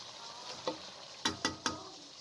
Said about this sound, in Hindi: अब और अच्छी तरीके से इसे फ्राई कर लें।